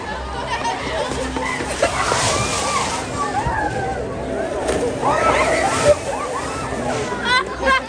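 An orca splashes water during a SeaWorld San Diego presentation, with repeated sloshing and splattering surges filling the air alongside crowd babble and a presenter talking throughout.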